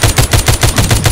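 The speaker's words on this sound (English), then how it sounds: "Hey, stop shooting." Rapid automatic gunfire in the zombie shooter video game The Walking Zombie 2, a loud, even burst of about nine shots in quick succession.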